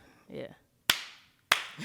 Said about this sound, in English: Just slow clap over here